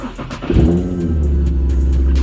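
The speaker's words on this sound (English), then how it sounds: "This is cold start. I haven't started the car today." An Infiniti G37 sedan engine, freshly tuned, cold-starts with a brief cranking whir that catches into a loud, steady rumbling idle up close, with no talk over it.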